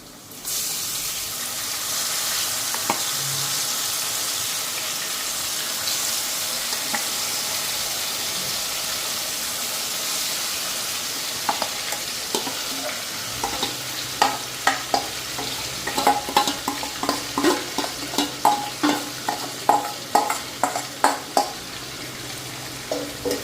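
Country chicken meat tipped into a hot pan, a steady frying hiss that swells into rhythmic scraping stirs, rising louder and more choppy toward the end.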